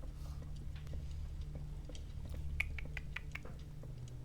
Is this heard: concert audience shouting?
no